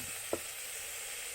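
Food frying in hot oil over a lowered flame in an African village kitchen, a steady soft sizzle hissing throughout with one brief clack of a utensil near the start.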